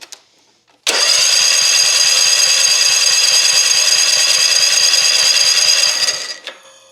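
Small engine cranked over with the fuel line pulled off the carburetor, a loud buzzing starter whir with rapid regular chugging pulses for about five seconds, then winding down and stopping, close and alone.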